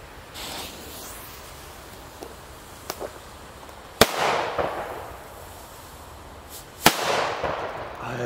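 P1 firecrackers go off outdoors in three sharp, loud bangs spread across the stretch, each followed by a brief rumbling tail, with quieter pops and outdoor noise in between.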